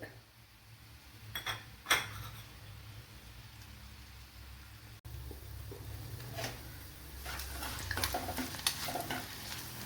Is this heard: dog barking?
no